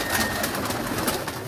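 Pigeons cooing on a rooftop, soft repeated throaty coos close by against a steady outdoor background.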